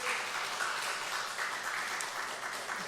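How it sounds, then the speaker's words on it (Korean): Church congregation applauding during a Sunday evening service, a steady, dense wash of clapping that holds evenly for about three seconds at moderate distance, with no voices rising above it. "우리 수고하신 여성계에 박수 한번 보내줘요"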